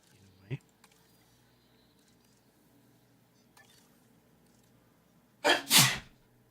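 A sudden loud sneeze bursts out near the end, close to the microphone, after a quiet indoor stretch with a few faint clicks and small knocks.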